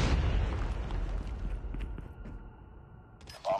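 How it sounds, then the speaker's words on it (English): A grenade blast in Call of Duty Mobile: a loud boom at the start that decays into a long rumbling tail, fading steadily before a short burst of noise at the very end. "Grenade out!"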